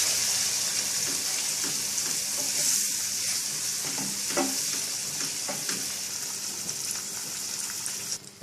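Garlic chutney paste with hing sizzles steadily in hot oil, a dense, constant frying hiss with occasional scraping clicks from stirring, close and without talk.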